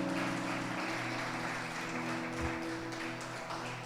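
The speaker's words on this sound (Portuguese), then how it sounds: "pode aplaudir o Senhor." A church congregation applauds during a worship service, a steady, even wash of clapping held at a moderate level over sustained musical tones.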